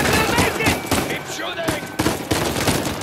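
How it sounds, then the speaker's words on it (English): Blind-fire gunshots in the video game Uncharted 4, sharp bursts of rapid shots in several clusters, loud and close, with a player's voice talking over parts of the firing. "Can I blind fire the person?"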